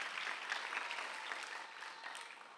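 A church congregation applauds together during a Sunday worship service, a dense, steady clatter of many hands that holds evenly for the whole stretch at moderate distance, with no voices over it.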